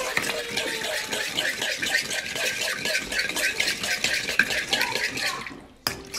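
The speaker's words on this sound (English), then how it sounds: "We're gonna go ahead and mix this and cover it for 10 minutes" Yeast, sugar and liquid being mixed in a bowl for honeycomb bread, a busy wet stirring and scraping that runs continuously, close and fairly loud, then stops abruptly near the end.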